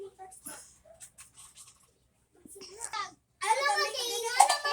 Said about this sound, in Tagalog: Ingay ng mga bata sa labas guys kasi walang pasok